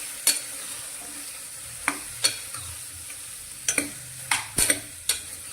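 Chopped ridge gourd is stirred into a hot spiced tempering inside a pressure cooker, a low sizzle underneath sharp intermittent scrapes and clinks of a spoon against the metal pot, roughly eight strokes spaced unevenly.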